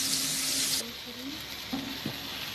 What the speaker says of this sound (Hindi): जब तक ये मसाले तेल ना छोड़े तब तक मुझे फ्राई करना है।